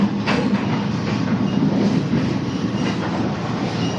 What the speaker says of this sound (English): I'm on the train to Pingtung.